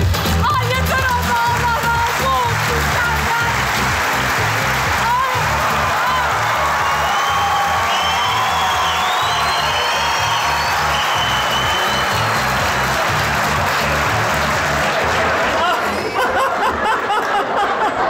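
Studio audience at a Turkish comedy sketch show claps and cheers steadily throughout, a dense loud crowd sound with laughter mixed in and voices on top.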